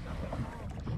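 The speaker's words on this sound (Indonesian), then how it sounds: "Cuma agak berangin ya karena memang musim musim baratan sekarang" Wind buffets the microphone outdoors by the sea during lure fishing in the windy western monsoon season, a steady low rumble with faint water and boat sounds beneath.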